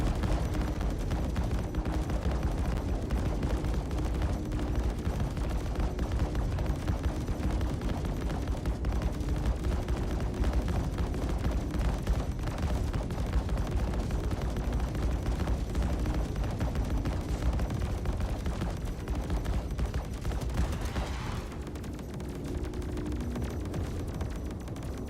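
Space combat gunfire in the Star Citizen game, a dense, continuous rattle of rapid shots with rumbling blasts, steady throughout and fairly faint, with no talk.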